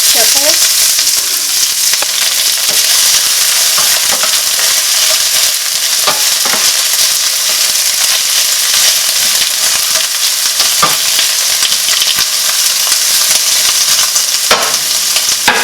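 Onion frying in olive oil in a skillet, a loud, dense and unbroken sizzle heard up close, with faint stirring clicks now and then and no voices.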